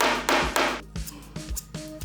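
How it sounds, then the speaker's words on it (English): A hammer strikes metal wire being shaped into a ring in a series of sharp, fairly loud blows, some close together and others spaced apart, each followed by a short ringing tail. "let me hammer this out"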